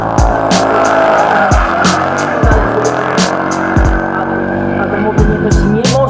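A drift car with a 5.0 AMG engine of 550 horsepower at a drifting event in Toruń, loud engine roar with long tire squeals and skidding, close and continuous, with repeated sharp bangs.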